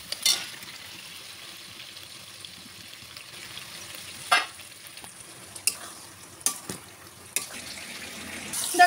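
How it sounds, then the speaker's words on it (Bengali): Fried pointed gourd and potato go into a pan of cooked-down masala, a soft continuous sizzle broken by several scraping stirs and clatters near the end. "এবার পটল আর আলু ভাজাটা দিয়ে দেবো"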